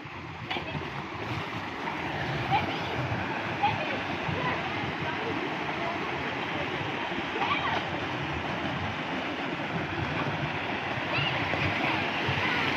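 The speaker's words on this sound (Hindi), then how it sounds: "ये जो पानी है ये खेतों में जाता है, ये ऐसे जा रहा है।" Irrigation water flows steadily along a channel toward farm fields, a constant moderate rushing and gurgling, with a person talking over it.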